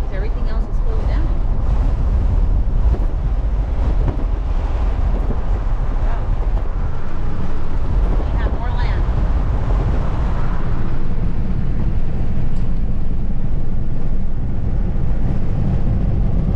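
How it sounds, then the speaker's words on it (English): Loud, constant wind roars against the microphone outdoors on open land in Apple Valley, California, a dense low rumble with passing rushes, and voices seem to come through faintly underneath. "it's a windy day today"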